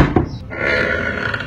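The hinge links of a house door creak as it swings, giving one drawn-out, groaning squeak close by and fairly loud.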